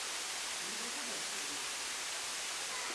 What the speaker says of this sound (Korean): 폭포의 물줄기가 시원하네요.